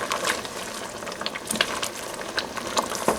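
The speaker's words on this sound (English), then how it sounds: "I'm going to go ahead and add 1/4 teaspoon of pepper, tablespoon of pepper, and I'm just going to stir it together" Pepper being stirred into a groundnut soup base with meat in a pot, a close wet bubbling and sloshing with soft scraping, steady and continuous with no talk.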